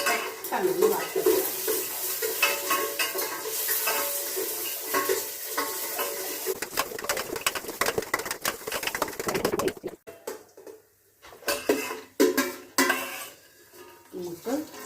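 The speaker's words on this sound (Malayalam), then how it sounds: "അതിട്ട് അണ്ടിപ്പരിപ്പൊന്ന് വറുക്കാം" Cashew nuts roasting in a pan for ada pradhaman payasam: stirring clatter of a spoon against the metal and a soft sizzle, with sharp scrapes and knocks that thin out toward the end.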